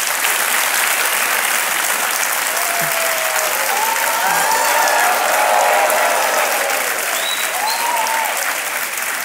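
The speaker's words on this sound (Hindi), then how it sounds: "तालियां बजती रहे इनके लिए।" Studio audience applause on the set of a televised quiz show, sustained even clapping throughout, with faint voices and a few cheers drifting above it.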